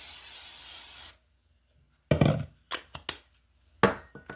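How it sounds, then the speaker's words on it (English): A steady spray of cooking oil into a plastic container hisses for about a second, then stops, followed by several sharp taps and knocks of handling the container up close. "you take a plastic container, you spray it with some oil or butter"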